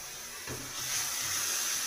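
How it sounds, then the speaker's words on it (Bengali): Onions frying in hot oil with a little chilli for a rohu fish kofta curry, a steady close hiss and sizzle that swells after a soft knock, with no talking. "এবার পেঁয়াজটা একটু ভাজা ভাজা হয়ে গেলে অল্প একটু লঙ্কা দিয়ে দেবো"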